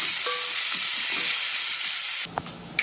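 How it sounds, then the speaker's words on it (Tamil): Onion and a single green chili sauté in oil in a kadai, a loud, steady, close sizzle with a brief stirring clink early on, cutting off to quiet utensil knocks near the end. "கடாய் வச்சு எண்ணெய் போட்டுக்கலாம். வெங்காயம் போட்டுக்கலாம். பச்சை மிளகாய் ஒன்றே ஒன்று மட்டும். இப்போது வதக்கிக்கலாம்."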